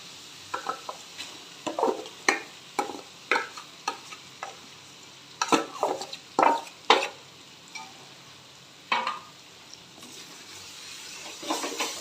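A jackfruit kachori filling being stirred in a pan with spices and oil, giving repeated close scraping strokes with a light sizzle underneath, steady and rhythmic throughout.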